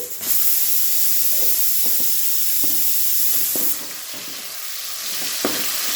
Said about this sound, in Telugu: ఇవి వేగుతూనే ఉండిద్దండి అల్లం వెల్లుల్లి పేస్ట్.